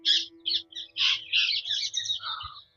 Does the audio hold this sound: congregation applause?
no